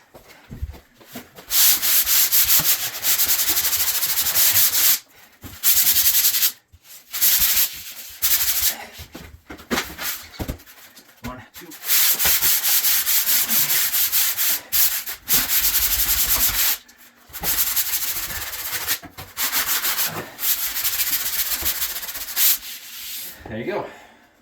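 Drywall being hand sanded in long, continuous rasping strokes, loud and close, broken by brief pauses between passes.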